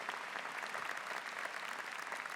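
Audience at a university freshman convocation applauding, a sustained, even burst of clapping from a large crowd with faint crowd murmur beneath.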